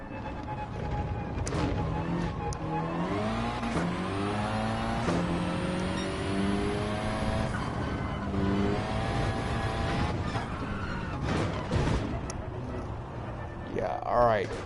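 Car engine in Gran Turismo 7 online racing on comfort tires, droning steadily and shifting pitch through gear changes across the lap, with a person talking over it.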